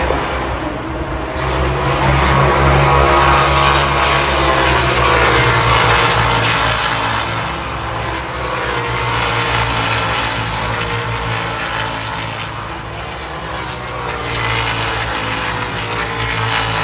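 Identical race cars with normally aspirated 1.6-liter Storm V4 engines at Mosport, producing a loud, continuous roar of several engines. The sound swells and fades gently as the cars circulate nearby on the track.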